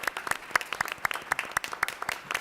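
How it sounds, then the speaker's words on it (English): Sparse applause at a board of supervisors meeting, a small group clapping in a loose uneven rhythm of distinct sharp claps, moderately quiet and slightly distant in the room. "maybe we can give Caleb a round of applause as well"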